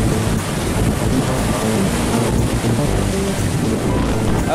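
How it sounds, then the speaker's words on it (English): Rough ocean waves and strong wind during Hurricane Maria make a dense, unbroken roar of surf and buffeting gusts, loud and steady throughout with no voices. "It's a pretty angry ocean."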